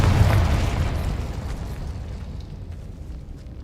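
A Confringo fire spell in Hogwarts Legacy bursts with a loud, booming explosion up close, its rumble fading over a few seconds with no talking.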